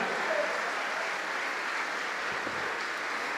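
Steady applause from a church congregation, a continuous wash of many hands clapping at an even level in a large room, sustained for a few seconds and ending abruptly.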